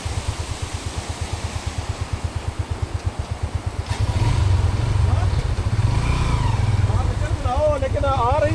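Motorcycles approach on a snowy mountain road, starting as a pulsing idle-like engine throb that swells into a louder, fuller roar as they draw near. A voice talks briefly toward the end.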